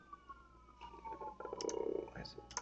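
Computer mouse clicks while working in Camtasia screen recording software, a few soft close taps scattered over a quiet background hum.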